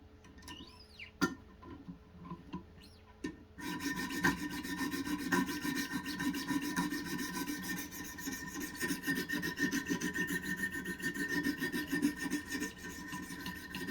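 A knife blade strokes against 100 and 200 grit abrasive stones on a Wicked Edge Pro-Pack III sharpener, making quiet, steady rhythmic rasping and scraping close by after a few light taps.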